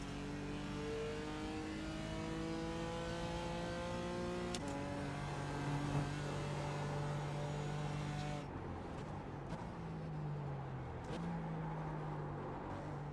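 A race car in the iRacing sim game drones and climbs through the gears, its engine note rising in long repeated sweeps with a few sharp shifts, steady and close throughout.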